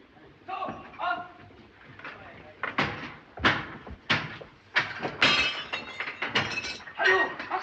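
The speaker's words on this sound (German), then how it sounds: "Die Verschläge aufbrechen!" Wooden storage partitions being forced and broken open in a 1931 film scene: a series of sharp cracks, thuds and splintering bangs at an irregular pace, loud and close, with people talking in between.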